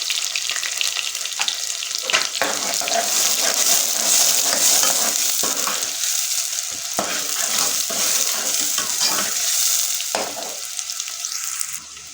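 Onions are added to beef liver frying in a pan, producing a steady loud sizzle with scraping stirring strokes and occasional clatters throughout.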